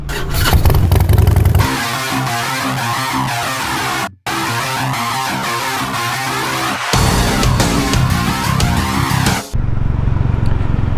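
A Royal Enfield Meteor 350 motorcycle ridden on a cold morning at 23 degrees, its engine droning loudly and continuously with shifting revs and heavy wind rush, broken by a brief cut.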